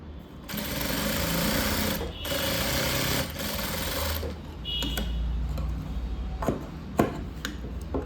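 Sewing machine stitching a blouse lining, running in two long steady bursts with a short pause between, then stopping, leaving handling sounds and a few light clicks.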